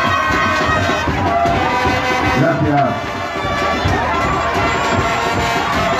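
Crowd at a pageant for Señorita FEXTICUM 2018 cheering, shouting and applauding for a contestant, loud and continuous, with a voice briefly speaking.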